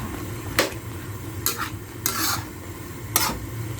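Dinuguan being stirred in a cooking pot: four distinct scraping strokes of a utensil against the pot, spaced irregularly over a low simmering sizzle.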